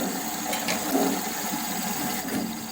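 A sawmill clutch spins with a steady mechanical whir and faint engine hum, a constant close drone with a few light knocks and no speech.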